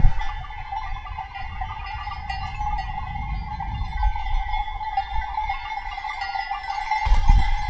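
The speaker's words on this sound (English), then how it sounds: "And we have a lot of cows coming" A herd of cows comes down a windy mountain on a scrambling route, a steady clanking wash of bells, with low wind rumble underneath.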